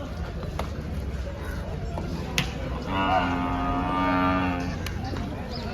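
One drawn-out buffalo moo rises over a noisy crowd of people talking at a buffalo market in Dhule, with a few sharp knocks nearby.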